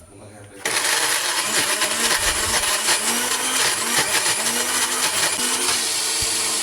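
A blender grinds a spice paste of aromatics, candlenuts and cooking oil for a chili-free potato chicken curry. After a quiet start it runs loud and steady with a whirring motor hum and rattling blades.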